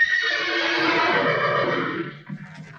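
Horses in the film Young Frankenstein let out a loud, close whinny that rises and trails off over about two seconds, followed by faint hoof and stamping sounds.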